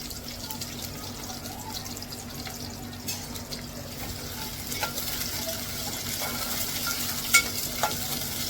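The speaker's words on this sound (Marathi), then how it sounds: "तर छान अशी फ्राय करून घेते मी इथे मिरची आणि लसूण." Chili, garlic and onion frying in hot oil make a continuous sizzle throughout, with occasional light scrapes and taps from stirring in the pan.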